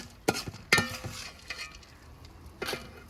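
A few scraping stirs in a pan with soft sizzling underneath, a spatula dragging through roasting sesame seeds in short, irregular strokes.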